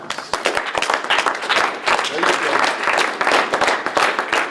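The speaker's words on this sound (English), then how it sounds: "You're clapping your hands" A seminar audience, standing, claps hands together in a dense, continuous patter of many hands at close range, with a voice briefly speaking over it.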